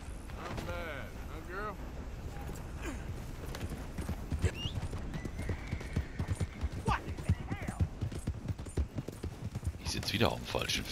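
Horse hooves clip-clopping steadily in the Red Dead Redemption 2 video game, a continuous close rhythmic trot with a brief whinny and a voice talking over it.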